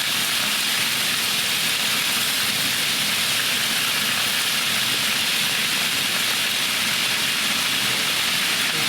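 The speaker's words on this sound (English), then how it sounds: "Look at that. Sizzle." Beef sears in hot oil in a pan while browning for beef bourguignon, giving a loud, continuous hissing sizzle that runs unbroken from start to finish.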